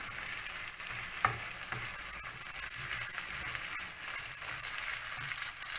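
Turnips, carrots and courgettes fry in a pan while being stirred, making a constant low sizzle with occasional scrapes and clicks of the utensil throughout.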